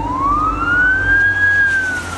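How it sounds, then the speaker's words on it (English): An emergency siren sweeps slowly up and then down in a single long wail as police and ambulances pass an accident scene on a dark, rainy road in Montenegro, loud and close over a low traffic rumble. "ambulances, police whizzing past"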